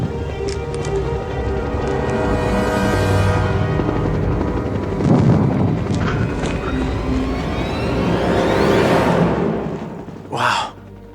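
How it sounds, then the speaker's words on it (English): A helicopter's heavy rotor rumble and whine close by, mixed with wind and vehicle noise, swelling and fading over several seconds. "we got a helicopter right behind you"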